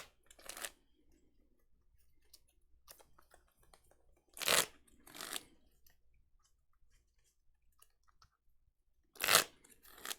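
Deck shuffling in the Pokémon Trading Card Game video game comes as brief, crisp, crunchy bursts, several spaced apart over a near-silent background.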